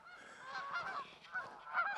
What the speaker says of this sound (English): there's a bunch of geese out there somewhere